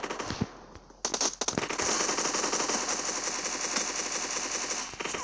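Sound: gunfire in PUBG Mobile video game

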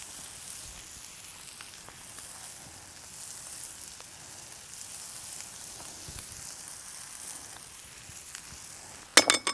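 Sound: bread pressed on hot griddle sizzling

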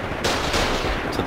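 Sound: gun turrets firing in the video game Foxhole

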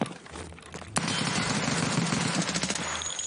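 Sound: full auto pistol gunfire in video game Escape from Tarkov

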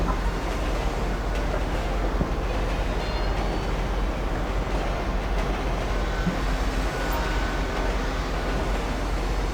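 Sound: train in video game GTA 5

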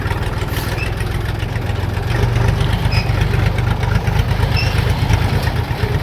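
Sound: Kentavr 244SX tractor engine running while driving

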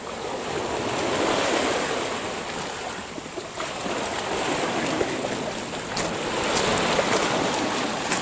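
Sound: ocean waves breaking on the shore

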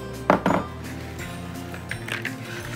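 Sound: mixing salad with vinaigrette in a bowl

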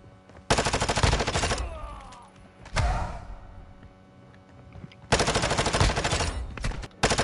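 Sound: gunfire from a video game

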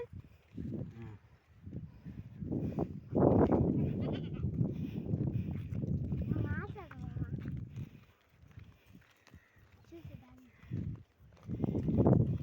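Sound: goat bleating while walking to the field

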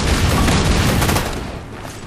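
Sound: fuel rod cannon firing in a video game

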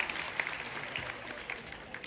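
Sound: concert audience applause

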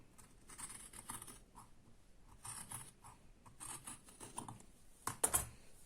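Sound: scissors cutting fabric for a beret

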